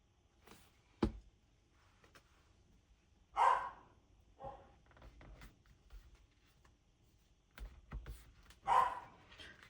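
A pet dog barks indoors in a few short, moderately faint yips spread across a quiet room, alongside small handling noises.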